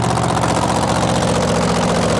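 Supercharged engine mounted on the nose of a super modified pulling vehicle, the REO Speed Wagon from Decatur, Indiana, rumbles loudly and steadily at idle, a dense continuous drone with no break.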